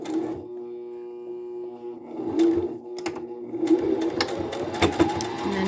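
A sewing machine stitches a phone pillow along a tailor's chalk line, starting with a steady motor hum, then breaking into bursts of rapid needle clatter with a short back stitch, close and moderately loud.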